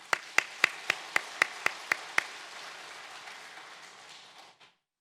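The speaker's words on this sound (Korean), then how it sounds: "우리 박수 한번 하십시다." A church congregation claps in unison, about nine crisp, evenly spaced beats in a row, then the sound trails off into a soft reverberant wash before fading to silence.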